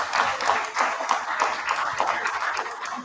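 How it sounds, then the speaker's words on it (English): A small audience at a Christmas roadshow event claps, an uneven patter of hands rising and falling in loose bursts, with some voices audible among the clapping. "give yourself a round of applause."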